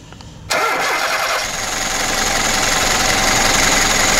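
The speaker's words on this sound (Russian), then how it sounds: "Заводим машину" A car engine with a Solex carburetor, recently repaired and being checked for heavy fuel consumption, cranks and catches abruptly, then settles into a loud, steady idle close by with no talk.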